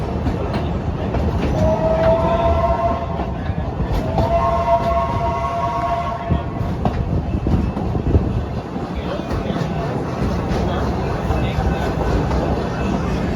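The Big Bad Wolf roller coaster's second train runs a test at Busch Gardens Virginia, a steady rumbling clatter on the track with two rising tonal whines, heard from a distance in an outdoor setting.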